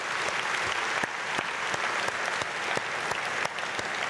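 A church congregation applauds during an early-morning prayer service, steady moderate clapping with a few sharper distinct claps standing out, fairly distant and even.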